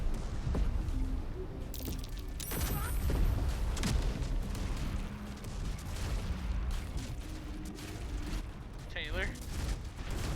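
In the fantasy role-playing game Baldur's Gate 3, fireworks go off as a rapid string of booms and crackling bursts. Players talk over the blasts during online multiplayer play.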